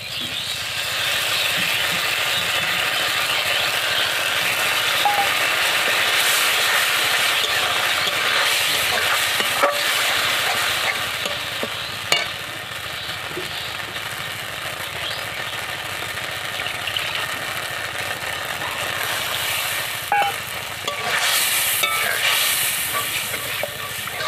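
Poppy seed paste and fish cook in a pan in a village kitchen, giving a steady, close sizzle and hiss that continues throughout with small pops, and nobody speaks.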